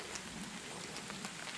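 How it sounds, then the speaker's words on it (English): Light rain falling in a dense, covered forest in Red River Gorge, Kentucky, a soft steady patter of drops on leaves with faint scattered taps, continuous and quiet with no voices. "little bit of rain coming down. Can hear it."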